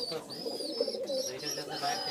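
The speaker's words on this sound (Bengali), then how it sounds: "কবুতরগুলি সব দেখাচ্ছি" Pigeons, among them racing birds kept at a home, coo steadily and close by in soft repeated throaty calls, with a voice faintly underneath.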